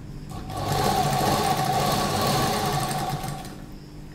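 A sewing machine runs steadily, stitching a fabric strip onto a slip (shameez) garment. The motor whirs continuously for about three seconds, close and fairly loud, with no talking.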